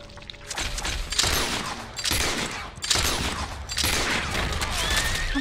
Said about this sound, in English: Where am I being shot at?